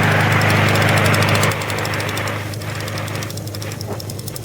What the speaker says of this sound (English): So here I'm moving to these engines to show you some more testing.